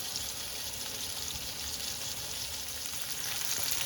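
Steelhead trout fillets sear skin side down in a hot pan with minimal seasoning, giving a loud, steady, close sizzle and crackle that holds evenly throughout with no voices.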